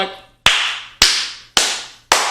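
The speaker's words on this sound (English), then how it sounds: "Sometimes he tries to match our clapping noises." Hands clap four times at an even, unhurried pace, each clap sharp and close, with a short ringing decay before the next.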